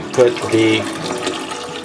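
Water fills a cooking pot halfway for escarole soup with garbanzo beans, a steady pour running under a person speaking through the short stretch.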